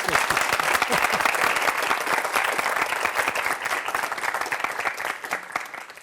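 Sustained clapping fills a Turkish talk venue as the audience applauds at the speaker's prompt, a dense, close crackle of many hands that stays strong before thinning toward the end.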